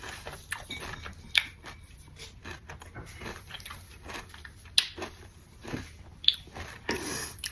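Chocolate-coated marshmallows being bitten and chewed close to the mic, with a few sharp crunchy bites spaced apart amid softer, squishy chewing and faint background noise.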